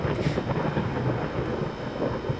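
Distant rumbling thunder with steady rain in the background, a low continuous roll rather than a sharp crack, heard faintly on its own with no talking.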